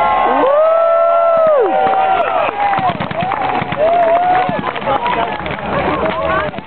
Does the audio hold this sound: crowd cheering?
yes